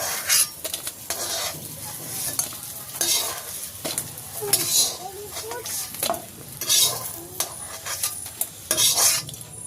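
Crispy fritters (bora) fry in oil in a village kitchen, giving a loud, bubbling sizzle broken by repeated metal scrapes and clatters of a utensil against the pan.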